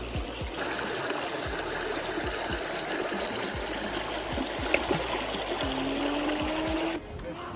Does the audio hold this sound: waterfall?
yes